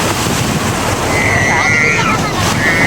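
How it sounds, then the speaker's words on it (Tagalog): Loud, continuous surf churns and roars close by on the sea at Liwliwa beach, Zambales, with wind buffeting the microphone and a faint whistling tone drifting over the wash. "ito na po ang lagay ng pag-alon dito sa dagat"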